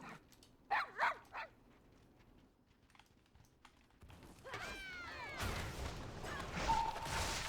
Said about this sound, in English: I'm waiting for the NPCs and their corgis.